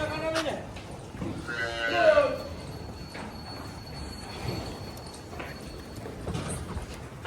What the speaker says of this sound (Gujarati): જો બધી ગાય છે ને ગમાણે છે ખોર ખાવા માંડી છે